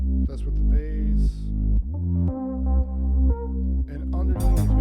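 A deep 80s-style synth bass line pulses in steady repeating notes under a bright melodic synth lead, loud and upfront.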